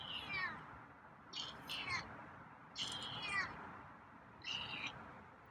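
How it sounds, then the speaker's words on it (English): A feral cat meows quietly four times in soft, short calls, with even pauses between them, close by against a faint background hiss. "So your meows are very quiet today."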